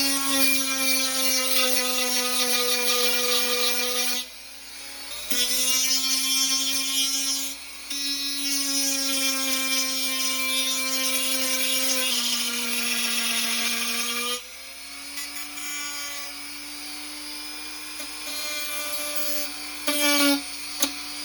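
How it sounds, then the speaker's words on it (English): Power drill with a sanding attachment grinding rust off a part from a broken Nintendo Wii, a loud, steady high-pitched whine held for about twenty seconds with a few brief dips and restarts, alone without talk. "I'm actually gonna use the drill first because I don't feel like waiting for some chemical solutions to take care of that rust"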